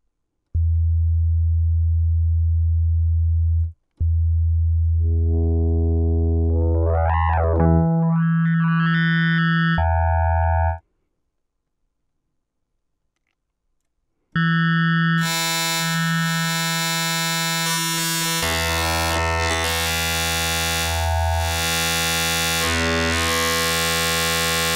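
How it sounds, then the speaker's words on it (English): Distorted, wave-shaped synth tones from the Rob Papen Quad plugin: a low sustained drone, rising chirping pitch sweeps, then a loud, dense buzzing distorted chord that continues to the end after a short silence. "For each we have several distortion or wave shaping types."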